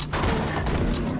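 A burst-fire pistol in the Borderlands video game lets off a dense, rapid volley of shots, loud and close against a rumbling game soundscape, with no one talking.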